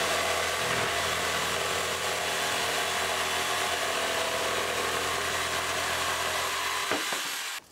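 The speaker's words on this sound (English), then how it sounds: "I'm just going to jigsaw a little bit out" A jigsaw cuts through MDF in a workshop with a steady, loud, buzzing rasp that runs without a break for about seven seconds, then stops abruptly.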